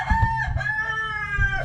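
A rooster crows loudly nearby in one long drawn-out call with a rising then falling pitch, heard alone without talk.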